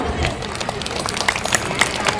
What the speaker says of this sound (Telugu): ఒకసారి మనకు మనం చప్పట్లు కొట్టుకుందాం.